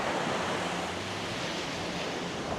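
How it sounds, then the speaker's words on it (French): Ocean surf washing onto Lamai Beach on Koh Samui, a broad, steady roar of breaking waves with some wind noise on the microphone and no voices. "rien que le fait de marcher et d'entendre le bruit des vagues"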